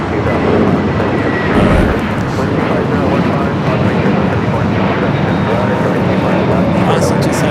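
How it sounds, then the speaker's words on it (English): An Air Canada Airbus A321 touches down on the south side at LAX, a loud, continuous roar of engines and rushing air rising briefly near the start, with a voice speaking over it. "just had an Air Canada A321 touching down here on the south side"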